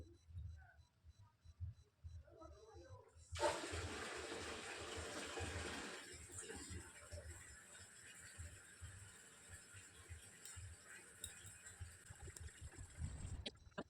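Tap water pours into a basin at a home in cold weather, making a steady, soft rushing that starts abruptly and continues. Faint handling noises sit beneath it.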